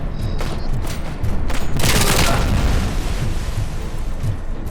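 Gunfire in the video game RoboCop: Rogue City, a loud, dense barrage of rapid shots and booming bursts that peaks in the middle and continues steadily throughout, with no voices.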